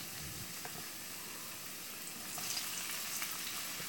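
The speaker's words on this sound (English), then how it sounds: "You hear that sizzle." Breakfast sausage hash sizzles steadily in hot oil in a skillet, a close, continuous frying hiss that swells a little louder partway through, with no talk.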